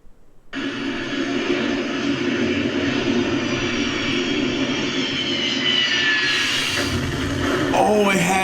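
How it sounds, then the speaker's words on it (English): A jet aircraft roars overhead near the scene of a plane crash, a loud, steady broadband rush that swells slightly near the end, with brief frantic voices underneath. "Is that a jet?"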